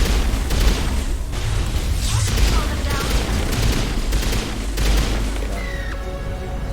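Dense, loud gunfire from incendiary rounds in a sci-fi video game, with sustained rapid bursts and booming impacts layered over one another and a brief voice in the mix.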